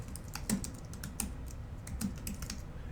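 Keys clack on a computer keyboard as a name is typed, a quick run of light close taps in an otherwise quiet setting.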